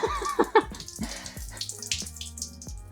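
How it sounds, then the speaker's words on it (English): Fluid pours and splashes out of the drain hole in the hood of a 2003 Infiniti M45 onto the floor, a close, steady watery trickle with a few louder splashes and drips throughout. "And then pouring out of a drain hole in the hood."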